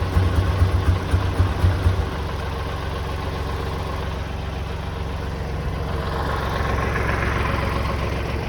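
A small lawnmower engine, long unused, idles steadily at close range, a low rhythmic chugging that sputters briefly at first before settling into an even drone.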